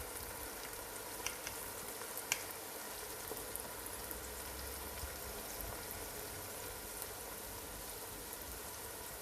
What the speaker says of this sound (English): Now the aim is to melt the onions now, before we add anything else into it.